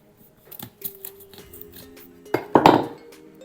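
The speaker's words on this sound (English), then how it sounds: "Chop onion." An onion being chopped with a knife on a board while making kimchi, heard as a few scattered light cuts and clinks followed by a louder burst of chopping near the end, close and with no talking.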